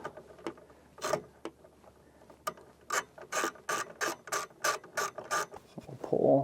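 Ratchet tightening a battery cable connection inside a 2012 Casita Spirit travel trailer, with a few scattered clicks followed by a quick regular run of about a dozen close ratcheting strokes.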